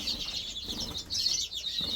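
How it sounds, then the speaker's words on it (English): Pair of greenfinches in an indoor birdroom, giving a steady run of thin high chirps and twittering with some soft wing flutter, fairly faint and close. "There's my pair of green finches."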